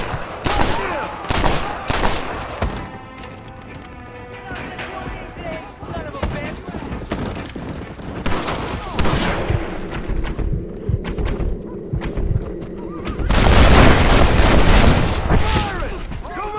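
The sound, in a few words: gunfire in video game Red Dead Redemption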